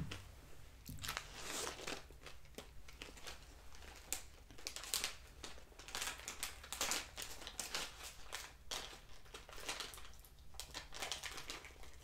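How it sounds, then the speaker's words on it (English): Seasoned tortilla chips crunched up close in the mouth, giving a rapid series of crisp, crackly bites and chewing sounds, quiet and intimate with no talking. "These little seasoned tortilla chips are pretty good."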